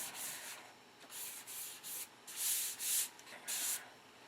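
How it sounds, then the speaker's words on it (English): Primer on a P-47 Thunderbolt scale model is sanded by hand with 400-grit paper, making soft, rhythmic rasping strokes close up, each stroke a short swish. "So let's see what it looks like sanded with 400."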